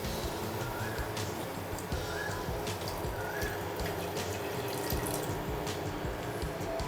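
Hot water pours into a pot of chilli chicken curry as a steady, fairly faint splashing stream lasting several seconds.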